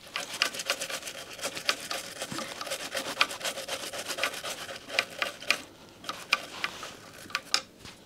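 Close scrubbing and rubbing on a 1964 black panel Fender Deluxe Reverb guitar amp during restoration, a steady run of dry rasping strokes with sharp ticks and scrapes throughout, no talking.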